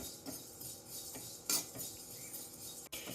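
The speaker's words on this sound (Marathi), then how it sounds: "आता हे जिरं घातलंय भाजायला." Cumin seeds dry roasting in a pan give a quiet, steady rustle with soft scraping as they are stirred. A sharper clink stands out briefly near the middle.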